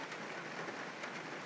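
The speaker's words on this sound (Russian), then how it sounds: "Да, дождик уже заканчивается." Steady rain patters densely on a surface, an even wash of drops with no voices.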